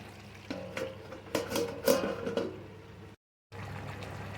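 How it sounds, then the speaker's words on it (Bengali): Onion paste for a Nawabi chicken curry is stirred in a pot, giving a few soft scraping strokes close by with light sizzling, then a brief cut-out before the stirring noise resumes; no talking. "এটাকে এবার ভালো করে নেড়ে নেবো"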